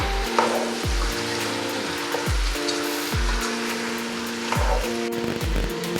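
Chicken pieces and long-sliced tomato frying in a pan for nadan chicken mapas, a steady loud sizzle broken by repeated scraping strokes of a spoon stirring roughly every second, with no talk.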